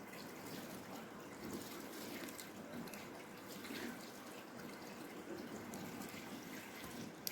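Tap water running steadily into a sink while something is washed under it in a home kitchen, a faint continuous splashing trickle with small irregular spatters.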